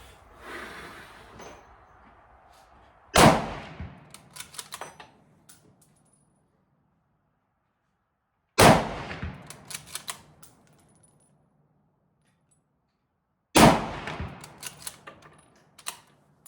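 Mosin Nagant carbine fired at an outdoor range; three sharp, loud gunshots spaced about five seconds apart, each followed by rattling bolt-action clatter and fading echo, with quiet gaps in between.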